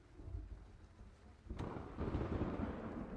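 Thunder from an approaching storm in the video game Battlefield Hardline: a low, broad rumble that swells suddenly partway through and keeps rolling at moderate loudness to the end, with no voices.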